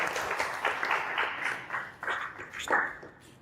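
Students in a broadcasting and film classroom give a short round of scattered hand clapping for a classmate, fairly faint and uneven, fading toward the end.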